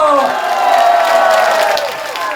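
A crowd at a comic dance show cheers and applauds loudly and continuously, with a strong voice calling out over the steady roar.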